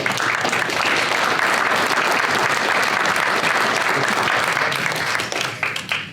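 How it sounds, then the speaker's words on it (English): Audience applause fills a La Verne city council meeting, celebrating the League of Women Voters: steady, dense clapping from a crowd at close range, holding loud throughout before thinning and tapering off in the final second. "I'd like to give them a round of applause."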